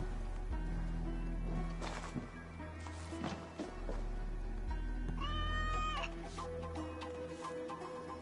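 Several cats meow repeatedly in Assassin's Creed Valhalla, with drawn-out, wavering cries over a steady game soundscape of low ambient drones and clucking fowl.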